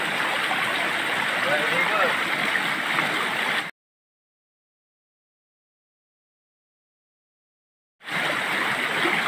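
Water rushing steadily in a river stream in the countryside, loud and close, running continuously before cutting to silence for several seconds and then resuming.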